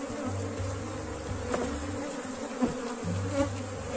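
A honeybee swarm buzzes at its hive, a dense, continuous drone of many wings close by, with a low hum swelling and fading beneath it and a few faint knocks.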